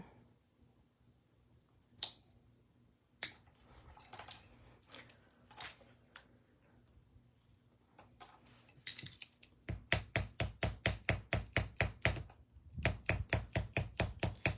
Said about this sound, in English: So hammering, you know, can add texture to your wire.